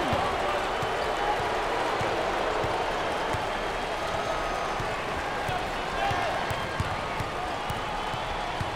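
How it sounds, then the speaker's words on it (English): A basketball arena crowd at an NCAA Tournament second-round game between Akron and Oregon roars and applauds continuously, with a broad, steady wash of cheering under a commentator's talk. "Listen to this crowd. Oh, there's all kinds of people standing and cheering and going wacky."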